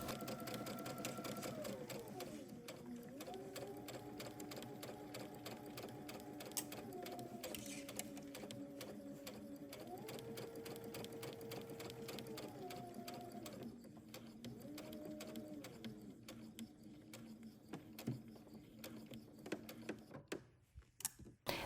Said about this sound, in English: Starting right here where the marking is, we're going to sew all the way around to the fold